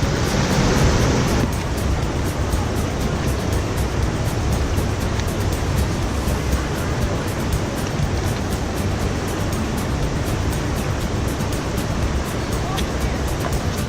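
The river in Linville Gorge rushes steadily in a continuous broadband roar, close and fairly loud, with a louder burst at the very start and no break in the flow.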